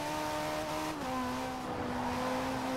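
Car engine in the racing game Forza Horizon 4 holds a steady, loud drone whose pitch shifts down once partway through, suggesting a gear change, running continuously for about three seconds with no talk.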